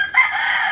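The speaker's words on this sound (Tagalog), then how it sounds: "mga mapugi yung mga manok ni Dandy guys, oh." A rooster on a Philippine farm crows nearby, one short, loud, strained call lasting under a second.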